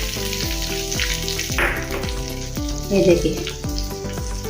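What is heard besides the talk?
tempering (tadka) sizzling in hot oil for chutney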